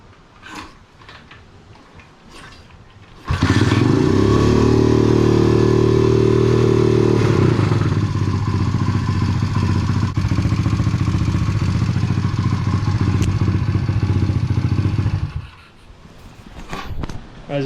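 A rebuilt YX 140cc pit bike engine starts and runs for about twelve seconds, loud and close with a steady idle and a rev near the start, then cuts off, with handling noises before and after.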